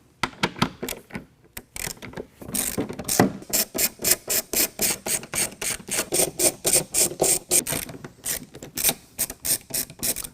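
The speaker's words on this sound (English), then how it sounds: "we can remove these bolts that are holding the spare tire carrier to the tailgate" Rapid ratchet clicking as a wrench loosens the bolts holding the spare tire carrier to the tailgate of a 2022 Ford Bronco, in close, rhythmic bursts of sharp ticks with short pauses between strokes.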